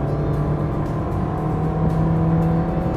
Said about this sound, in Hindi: जैसे ही मैं इसको एकदम से रेस देता हूँ एक बार झटका तो देती है।